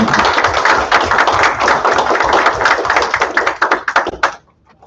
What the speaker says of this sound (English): So perhaps a round of applause to show our appreciation for that.